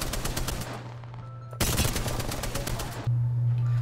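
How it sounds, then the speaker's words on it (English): Bursts of rapid automatic gunfire from the Apex Legends video game, with bullets striking armor shields for a metallic hit sound; loud, dense rattling volleys with a brief pause and a steady tonal hum underneath. "because the shields sound metallic"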